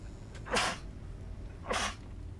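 Two sharp sneezes about a second apart, close and loud against a quiet background, during a playthrough of the video game Dishonored.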